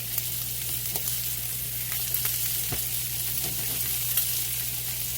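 Cabbage and garlic-butter shrimp fry in a pan with a steady, close sizzle and occasional soft stirring ticks, no talking.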